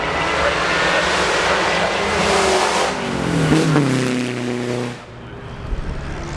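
A 1912 Lorraine-Dietrich Grand Prix racing car engine roars close by under wind noise at the Goodwood Festival of Speed, rising and falling as it revs, then fades quickly as it passes.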